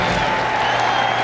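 A stadium crowd at a 1998 Nebraska versus California college football game roars in a steady, dense wash of cheering and applause, loud and continuous throughout.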